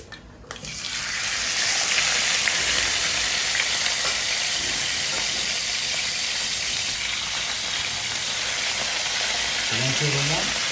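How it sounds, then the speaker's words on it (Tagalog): Chicken fries in oil with a loud, dense, continuous sizzle that swells in after a brief quiet start and holds steady close by, with a voice briefly audible near the end. "Iprito na ang kanyang chicken."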